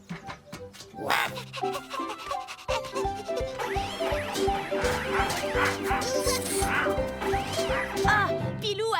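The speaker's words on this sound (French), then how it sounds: "on est tous des chiens. Wouf, wouf, wouf." Cartoon dogs bark in a quick string of yips and woofs over busy background music, with brief whimpers and cartoon sound effects mixed in, near and lively.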